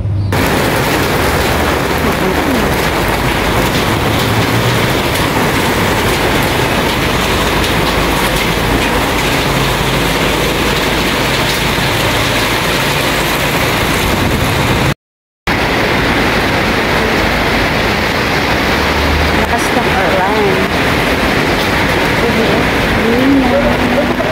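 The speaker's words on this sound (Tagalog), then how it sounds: "mas lalong lumakas ang ulan ngayon kaysa compare kaninang pagdating ko dito" Heavy rain falls outside as a steady, dense wash of noise for the whole stretch, loud and close, broken only by a brief cut near the middle.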